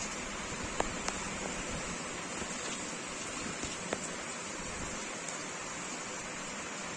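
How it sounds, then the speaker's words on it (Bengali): Heavy rain pours steadily outside during a storm, a dense continuous hiss with a few sharper drips and taps close by, no voices. "বাইরে ঝড় বৃষ্টি শুরু হয়ে গেছে, বেশ ভালোই জোরে বৃষ্টি পড়ছে"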